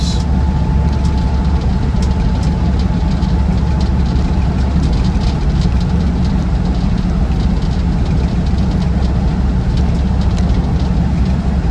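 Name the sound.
Land Rover Defender 90 TD5 engine driving along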